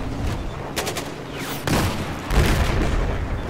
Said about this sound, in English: I blew up one of the tanks.